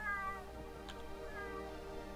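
A pet kitten meows in the NetHack game Vulture, a clear drawn-out cry near the start, then a quieter second meow, heard alone over a steady low game hum.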